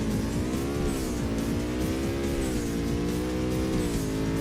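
A race car engine revs in the PS2 game Burnout 2: Point of Impact, as a Custom Coupe waits on the start line of a grand prix. A loud, continuous engine drone with wavering pitch plays with no voices over it.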